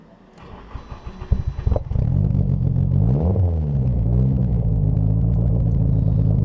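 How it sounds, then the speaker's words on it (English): Engine of a 1994 Nissan NISMO 270R, with a few uneven revs before settling into a loud, steady low rumble from inside the car while riding, with no talk. "we're gonna go for a ride in this really special Nissan 270R NISMO"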